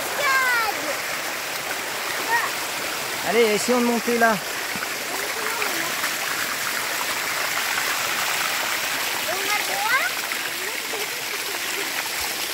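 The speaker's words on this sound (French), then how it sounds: "Une cascade." Jungle waterfall and stream in northern Thailand, a steady broadband rush of falling and running water throughout, with people talking briefly over it.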